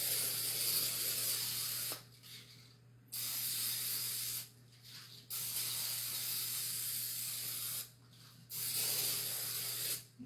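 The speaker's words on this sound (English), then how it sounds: "We're going to back up and spray" Cooking spray hisses onto a pan in a kitchen, prepared for spaghetti pie, in four close, steady bursts separated by brief pauses, with a faint background hum and no speech.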